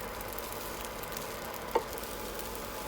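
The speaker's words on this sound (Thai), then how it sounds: "ทาน้ำมันพืชที่กระทะนะคะ แล้วก็นำข้าวเหนียวลงที่เราปั้นลงจีเลยนะคะ" Shaped balls of sticky rice sizzle in a pan greased with vegetable oil, a soft, even frying hiss with one sharp click partway through.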